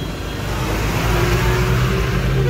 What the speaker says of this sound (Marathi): हे बघा बॉडी बनवून गाडी बाहेर आली.